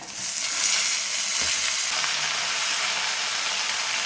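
Saag greens hit hot oil in a wok with fried onion and green chilli, bursting into a loud, steady sizzle that hisses continuously and close throughout.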